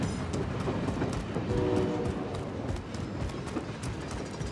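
Train rolling along in a video game, a steady dense rumble with faint rhythmic clatter and a brief horn-like tone in the middle, loud and continuous with no talk over it.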